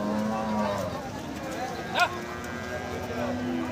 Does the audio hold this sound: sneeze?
no